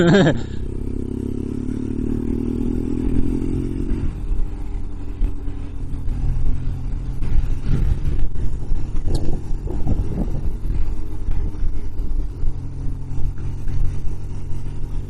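A BMW R1200GSA adventure motorcycle fitted with luggage cases and off-road tyres rumbles along a coastal road on the Côte Sauvage of Quiberon, with a steady engine drone and wind noise, plus a brief beep at the start.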